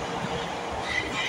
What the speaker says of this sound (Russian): Итак, я сел в поезд.